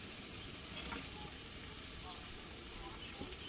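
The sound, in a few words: frying with turmeric and chilli powder, sizzling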